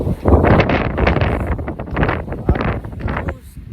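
Heavy wind buffeting a microphone, a continuous rumbling roar that surges and dips for a few seconds.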